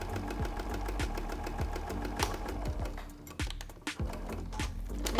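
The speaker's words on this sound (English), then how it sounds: "Now we're going to sew each of these seams that we've just pinned together at 1 centimetre seam allowance" A sewing machine runs steadily along dress seams at a 1 cm allowance, its rapid needle rhythm close and continuous, with a brief slowdown near the end.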